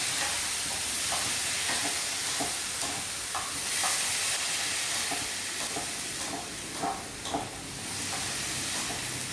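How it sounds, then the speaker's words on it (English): Tomatoes hit a pan of sweated onions frying in extra virgin olive oil, giving a loud, steady sizzle close by, with scattered stirring knocks and scrapes and no talk. "Now we are going to add our tomatoes."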